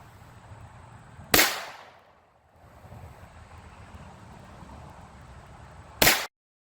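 Two sharp, loud cracks come about five seconds apart as .22LR Velocitor 40-grain rounds are fired outdoors, with faint wind and ambient noise in between.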